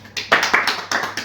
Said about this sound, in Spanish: Y también un fuerte aplauso para don Willis Huber.